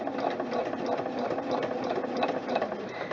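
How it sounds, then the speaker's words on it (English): A sewing machine stitches through layers of denim, moving from two layers up to six, with a steady, close mechanical whirr and a faint rhythmic pulse of the needle, no voices. "sewing from 2 layers of denim onto 6 layers of denim"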